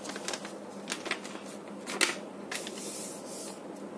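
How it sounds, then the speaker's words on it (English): Sheet of paper creased and unfolded while folding an origami dragon, a series of close, crisp crackles and rustles with one sharper snap near the middle, alone without talk. "fold the paper along the other diagonal and unfold"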